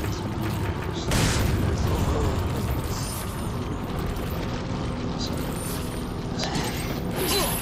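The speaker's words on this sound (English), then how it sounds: "One more hand grenade." A hand grenade goes off in Resident Evil 4 with a loud blast around the one-second mark, followed by dense rumbling game action, clanking mechanisms and clatter.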